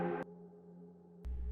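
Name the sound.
cinematic whoosh sound effect with reverb, distortion and delay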